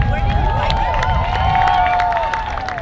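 A crowd at the ʻOnipaʻa Peace March 2024 applauds a band, with loud sustained clapping and cheering mixed with whoops and raised voices throughout.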